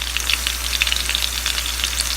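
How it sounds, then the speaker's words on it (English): Steady crackling and popping of chicken pieces deep-frying in hot oil, close up and continuous, with no talking. "So we continue frying these."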